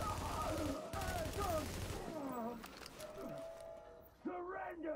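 Bursts of gunfire in the shooter video game The Division, fairly quiet, heard among other layered game sounds and tones over a few seconds.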